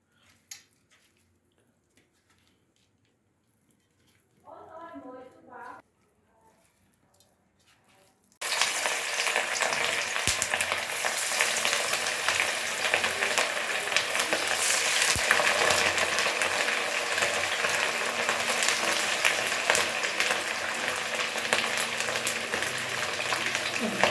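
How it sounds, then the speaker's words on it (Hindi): Ribbon fish pieces fry in hot oil, a dense continuous sizzle that starts abruptly after a quiet opening with a short burst of clatter, then holds loud and steady to the end. "सारा फिश फ्राई कर दिया है।"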